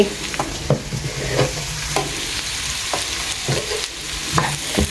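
Coriander leaves are stirred into frying onions in a pan, with a loud, continuous sizzle and repeated scraping, knocking strokes of the spoon against the pan.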